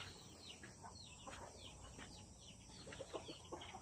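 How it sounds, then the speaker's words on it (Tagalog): Soft, high chirps and peeps from newly hatched ducklings come in scattered bursts over a faint outdoor hiss, with a few quacky calls from ducks near the end. "May 3 bibe ako nakita."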